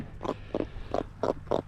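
Pigfish freshly caught from a kayak off South Carolina, giving five short, rough grunts in an even rhythm, close and fairly quiet, with no talking.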